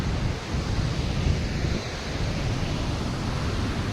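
A Himalayan river flowing along a trekking route, a steady dense rushing roar, close and continuous, with no break.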